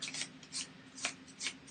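A spell card deck from the Arkham Horror board game being shuffled by hand, heard as four short, close riffling swishes at a steady rhythm with no speech over them.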